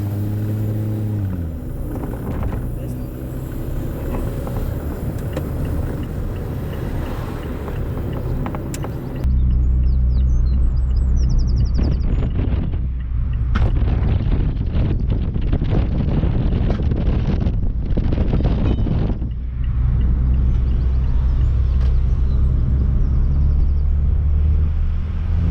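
A hydrogen-powered car driving under steady, loud road and wind rumble, engine drone shifting as it pulls through the gears, with a brief change in character partway through and no talking.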